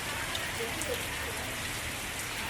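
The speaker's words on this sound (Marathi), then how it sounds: "आणि तेव्हा किती पाऊस पडतोय" Steady rain pattering down on surfaces in Lonavala, India, a dense continuous hiss of drops throughout, with no talking.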